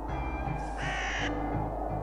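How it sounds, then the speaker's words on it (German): Crows in a video game cawing as they are scared off, a few harsh loud caws over a steady low background hum and music. "Du hast die Vögel verscheucht."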